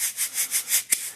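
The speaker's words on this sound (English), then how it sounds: "I really like these shakers by Meinl." A Meinl SH4BK shaker of medium loudness, shaken in a steady rhythm of about five soft, hissy strokes, followed by one sharper accented shake near the end, close and alone.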